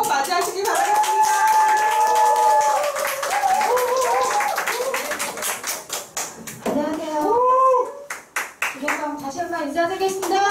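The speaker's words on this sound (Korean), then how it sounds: "큰 박수로 맞이하시기 바라겠습니다" Audience clapping and cheering greet a speaker, Kim Hye-seong, at a Nu Skin training event. The sustained applause runs loud throughout, with voices and cheers mixed in, and thins out briefly near the end.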